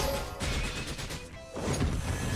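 A Dark Reaper attack smashes an enemy in the mobile game Langrisser M, a loud crashing burst with swooshing effects that surge, dip briefly and swell again.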